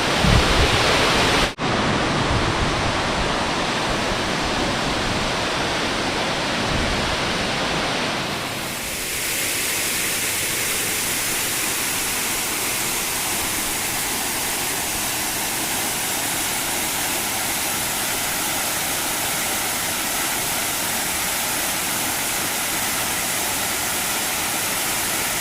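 A waterfall pours into a small pond in a Himachal forest, giving a steady, loud broadband rush. After a brief cut it settles into a slightly softer continuous roar that runs unbroken to the end, with no voices.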